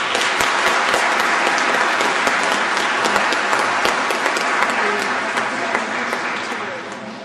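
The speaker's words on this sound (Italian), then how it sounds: "Facciamo un applauso a Emanuele." Steady, dense applause from a congregation at a baptism, loud and sustained throughout, fading slightly toward the end.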